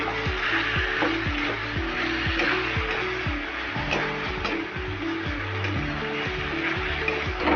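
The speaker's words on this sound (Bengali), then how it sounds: "এবার আমি ভালো করে কষাতে থাকবো" Kashmiri red chilli masala sizzles steadily in a pan while being sautéed for vegetarian ghugni, a continuous close frying hiss with soft background music underneath.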